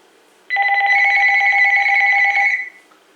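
A single electronic ring from a Uniden EXAI5680 cordless phone, a bright warbling tone lasting about two seconds, loud and close in a quiet room.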